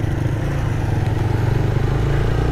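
A new motorcycle cruises in fifth gear, its engine humming with a steady, loud mid-pitched drone and slight rhythmic pulsing, close to the rider and with no talking.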